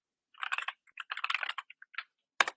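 Keys clatter on a computer keyboard as a schema write command is typed into the Zed command-line tool for SpiceDB: quick close clusters of keystrokes with short gaps, then one sharp final press after a pause, with no talking.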